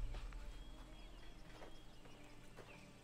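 Horse hooves clip-clopping in the video game Assassin's Creed III Remastered, a quiet run of rhythmic hoofbeats over a low rumbling background, with no talking.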